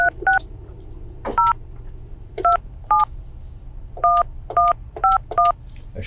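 Loud, clear touch-tone keypad beeps as a telephone is dialed, about a dozen short tones in uneven quick succession over a low background hum, with no talking.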